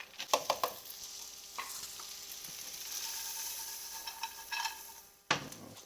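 Pumpkin seeds fry in avocado oil in a skillet over medium heat, giving a soft, even sizzle with a few sharp clicks and taps near the start and one bump near the end.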